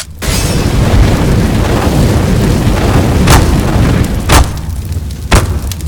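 A Molotov thrown and burning in Counter-Strike: Global Offensive on the Mirage map: a loud, constant roaring whoosh of flames, broken by a few sharp bangs of nearby game gunfire.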